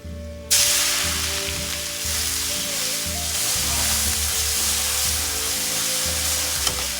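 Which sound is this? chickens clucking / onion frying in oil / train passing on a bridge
onion frying in oil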